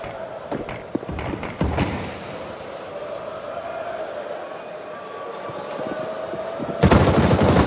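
Bursts of rifle fire crackle during a professional Counter-Strike match, with a few sharp shots early on and a loud spray at the end, while commentators talk over the game noise.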